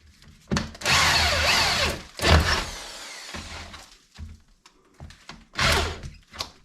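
A power drill drives screws during a full-removal window replacement, heard in several close, loud whirring bursts separated by short pauses, knocks and thunks.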